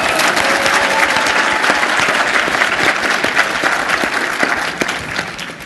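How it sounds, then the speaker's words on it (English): Loud, dense audience applause fills an acting showcase event, steady and sustained throughout before easing slightly toward the end, with no voices standing out. "Give him a round of applause."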